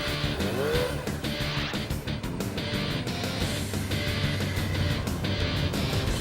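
Heavy superbike motorcycle engine revving on a track, a loud, sustained roar with a rising pitch sweep near the start, steady throughout without talk.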